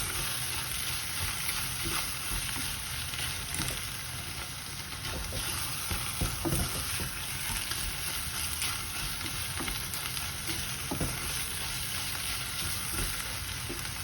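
Minced meat fries in olive oil in a pan for Greek spaghetti with minced meat, a dense, steady sizzle and crackle running throughout with occasional stirring scrapes, close and loud.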